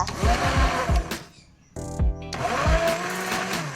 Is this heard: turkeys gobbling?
no